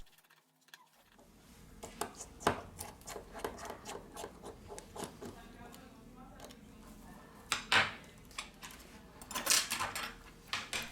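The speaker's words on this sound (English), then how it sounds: "We release the screws from the top of the device." A small screwdriver works screws out of the top of a Sony Xperia L3 phone with light clicks, scrapes and metallic ticks close up. The sounds come irregularly over a quiet background, with a few sharper taps.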